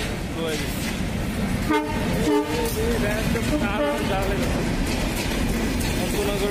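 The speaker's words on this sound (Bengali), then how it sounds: "একটা ট্রেন আসতেছে, দেখতে পাচ্ছি।" A train rolls into Tejgaon railway station in Dhaka, its horn sounding several times over a steady, loud rumble of wheels and carriages, with people talking in the background.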